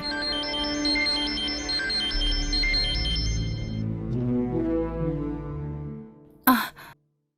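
A melodic phone ringtone plays a repeating electronic tune at moderate volume, then stops, followed by a short sharp breath.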